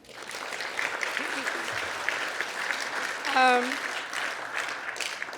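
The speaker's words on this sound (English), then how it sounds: "So you can give a round of applause yourself." Audience applause at a gratitude dinner, a steady wash of clapping in a large room, with a brief voice rising above it partway through and murmured talk underneath.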